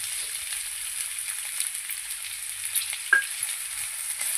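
Green chillies, curry leaves, ginger and finely chopped onions fry in hot oil for a curry, a steady close hiss of sizzling with a brief stir or scrape partway through, no voices.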